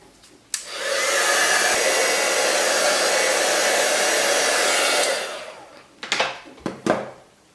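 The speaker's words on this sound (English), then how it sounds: "Now I'm going to have to use the heat gun on this, so this might be a little bit noisy" A heat gun gives a loud, steady roar of blowing hot air for several seconds while drying a craft project, then cuts off, followed by a few sharp clicks and knocks nearby.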